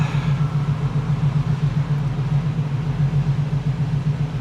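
A TVR S3 sports car engine runs steadily after repair work, producing a loud, even low rumble with a pulsing throb, close by and alone with no voices.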